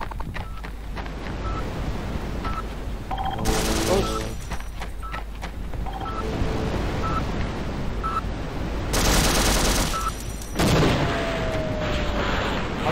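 Dual Uzi fire in Sven Co-op, several short loud bursts of rapid shots spaced across the stretch, over steady game ambience.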